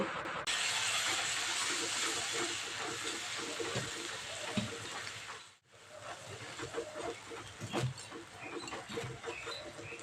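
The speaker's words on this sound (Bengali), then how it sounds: "সব একসঙ্গে খুব ভালো করে মশলাটা কষিয়ে নেব" Turmeric, cumin and coriander powder fry together in a pan for dhaba-style dal palak, giving a steady, close sizzling hiss with crackles; it drops out briefly midway, then resumes with sharper pops.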